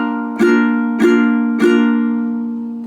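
A ukulele strummed three times with open, unmuted strings, each chord ringing on and overlapping the next, sustained tones decaying slowly between strums, close and clear with no talking.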